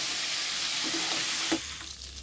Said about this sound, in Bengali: অর্ধেকটা টমেটো আমি এখানে ভেজে নিই